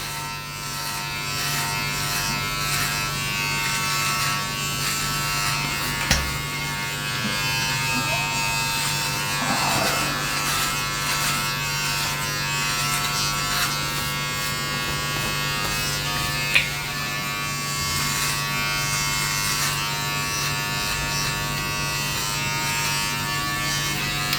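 A Manscaped Lawn Mower 3.0 Plus electric body trimmer buzzes steadily while trimming chest hair, a close, continuous motor whine with faint changes in pitch as it moves over the skin and a couple of small clicks.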